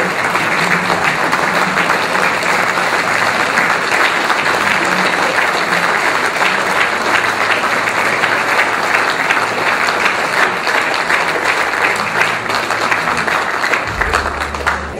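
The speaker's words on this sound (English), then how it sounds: "So please stand, so we can all give you a round of applause." A Christmas gala crowd gives sustained, loud applause to a standing association president, a thick, even wash of clapping from many hands that carries on for about fifteen seconds before easing slightly at the end.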